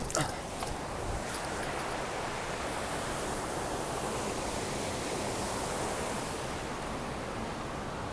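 River water rushes in a steady, broadband roar, loud and continuous, with no voices over it.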